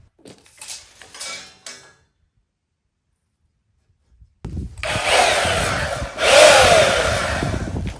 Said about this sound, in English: I'm just gonna mark and cut this one before and try it with the bandsaw